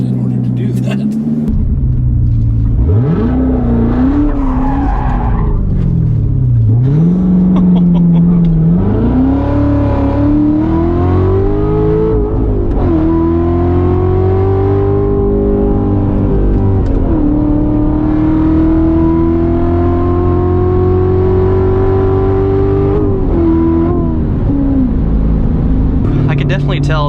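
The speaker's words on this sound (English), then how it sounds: "I just want to spin the damn car once" A Chevrolet Corvette C7 Z06 with a 7-speed manual, traction control off, revs its engine hard through a sustained spin-out, with a loud, rising and falling roar throughout as people talk over it.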